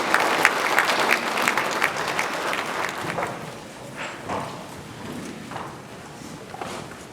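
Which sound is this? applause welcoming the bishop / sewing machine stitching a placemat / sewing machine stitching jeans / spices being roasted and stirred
applause welcoming the bishop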